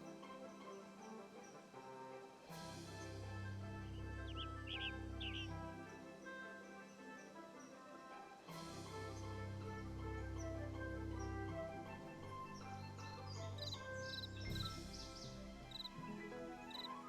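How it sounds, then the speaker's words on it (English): A crow calls in the video game Nancy Drew: Ghost Dogs of Moon Lake, with a few brief, faint bird cries over a steady ambient game soundscape of low tones and background music. "Sounds like a crow."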